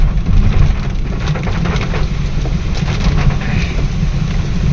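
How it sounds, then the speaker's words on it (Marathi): Heavy rain drums on a moving car while the wipers run fast, a loud, dense roar of water and low engine rumble filling the cabin without a break. "वायपर एवढं फास्ट चालू म्हणजे पाऊस स्पीडने"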